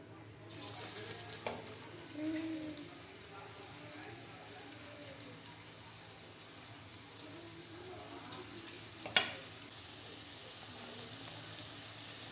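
Soybean chunks fry in lightly heated oil with a quiet, continuous sizzle, broken by a few faint clicks and one sharper knock near the end.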